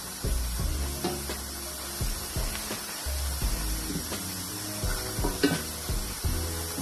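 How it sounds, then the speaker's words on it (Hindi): Onions frying in oil in a pot for mutton trotters: a continuous close sizzle with repeated clanks and scrapes of a spoon stirring against the pan. "हम ऑयल में प्याज को बहुत अच्छी तरीके से भूनेंगे।"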